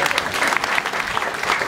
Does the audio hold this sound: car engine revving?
no